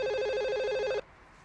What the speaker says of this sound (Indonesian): Ini telepon babunyi mulu kayak kambing.